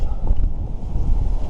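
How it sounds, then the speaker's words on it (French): Strong headwind buffets a cyclist on foot on a road through the Grandes Causses in the Tarn, roaring steadily and loudly across the microphone with a low rumble and no voices. "un gros vent de face"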